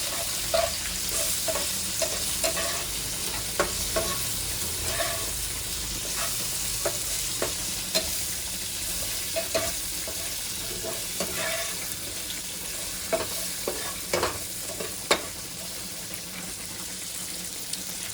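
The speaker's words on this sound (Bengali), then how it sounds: "এবার একটা নাড়াচাড়া দিয়ে ভালো করে মাখিয়ে।" Okra frying in a pan with salt and turmeric is stirred steadily, a constant sizzle running throughout while a spoon scrapes and taps the pan in irregular clicks, close up with no talking.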